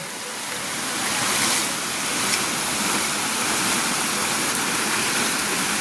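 Water from a farm-lot waterfall in Calauag, Quezon pours into a lower pool, a continuous broadband rush that swells slightly early on and then holds steady and fairly close, with no talking.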